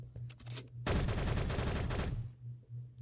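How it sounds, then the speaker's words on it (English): Rapid automatic gunfire from a multiplayer shooter video game, a dense sustained burst lasting over a second, loud and close, preceded by a few quieter separate shots. "my teammate actually shooting someone?"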